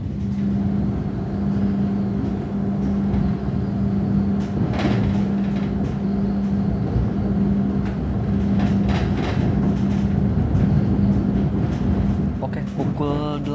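A freight train rumbles past near Jakarta, Indonesia, with a steady mechanical drone, clanks and rattles of rolling cars, loud and close, with a higher screech near the end.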